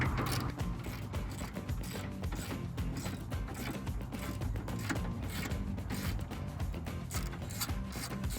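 A ratchet unbolts a bolt on a 2011-2017 Mustang GT engine, making rapid, continuous close-up clicking that runs steadily throughout, with no voices.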